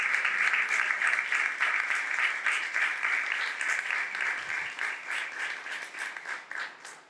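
Loud, steady applause from a church Bible class audience, dense clapping sustained for several seconds and easing slightly toward the end.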